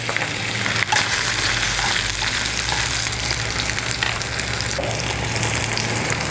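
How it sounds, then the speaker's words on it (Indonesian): Mushrooms and sliced sausages sauté in a hot pan, giving a steady, close sizzle and frying hiss with occasional stirring scrapes throughout. "ini kita akan tumis jamur dan juga sosis"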